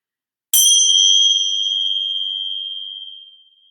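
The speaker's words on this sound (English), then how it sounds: "let's start with a bell" A single bell struck to open a yoga session rings out once with a bright, clear strike, then a long pure tone that lingers and slowly fades for about three seconds in an otherwise silent room.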